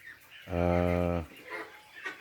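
Two-month-old ducklings give one sustained, harmonic, buzzy call lasting under a second, close and fairly loud, followed by softer quacky murmurs and faint voices in the background.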